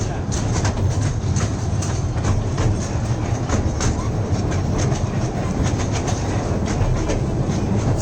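Steam locomotive at the National Rail Museum in New Delhi, a steady loud broadband rumble with rhythmic clanking and hissing throughout, with voices faintly audible in the background.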